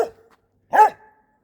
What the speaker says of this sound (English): So, Pepper's barking.